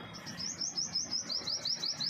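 Sparrows chirping in a home garden, a steady run of quick, bright tweets repeating in bursts over a soft outdoor background, moderately close.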